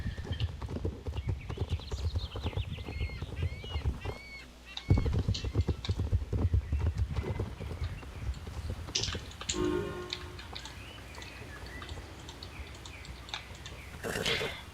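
Rhythmic horse hoofbeats clip-clop steadily at close range in the video game Star Stable Online, with a short pause midway, amid light game background sounds.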